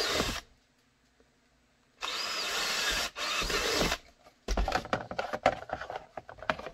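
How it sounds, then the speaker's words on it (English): A power drill drills retention holes for a pistol holster rig, whirring in two sustained bursts, then running in choppy, stuttering spurts as it bites into material, close and loud. "drill the retention holes."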